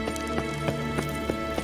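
Horse hooves clip-clop in The Witcher 3, a steady rhythm of about six even hoofbeats over a constant low ambient hum, close and moderately loud.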